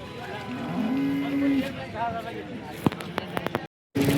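A cow at a cattle market in Sangola, Maharashtra gives a long, drawn-out moo up close, then a second lower bellow, amid market chatter, several sharp knocks and a brief dropout.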